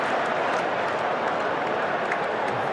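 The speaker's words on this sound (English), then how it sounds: "there's cheers and roars from the crowd" A cricket crowd at a 2004 NatWest Series match between England and West Indies roars and applauds in a continuous, loud wash of cheering noise.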